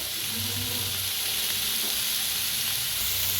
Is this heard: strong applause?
no